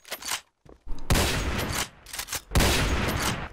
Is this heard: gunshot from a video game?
yes